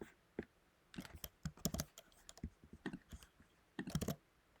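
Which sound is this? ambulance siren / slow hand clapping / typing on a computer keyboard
typing on a computer keyboard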